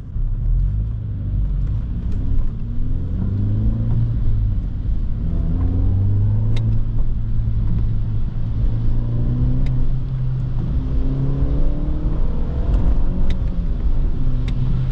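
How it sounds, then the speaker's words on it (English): A BMW 318ti E46 with the N42B20 four-cylinder engine drives through the city, its low engine and intake drone rising and falling with gentle acceleration, steady and close from inside the cabin, without talk. "The car has some nice induction noise from pulling the air through the filter inside the engine"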